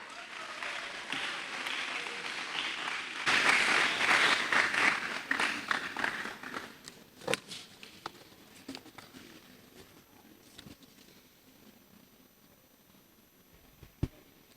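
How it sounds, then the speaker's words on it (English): At a Year 6 graduation ceremony, the audience applauds the head of the school in a broad wash of clapping that swells after a few seconds, then thins to scattered claps and fades, with one sharp knock near the end. "Put your hands together for a round of applause for the head of the school, Miss Jacqueline Aminga"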